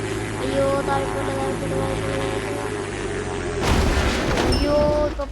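An airplane explodes in a video game, a steady engine drone giving way to a loud, rumbling blast with crackling debris near the end.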